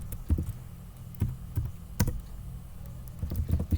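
Close computer keyboard typing while entering C code, with uneven bursts of sharp key clicks and short pauses in a quiet room.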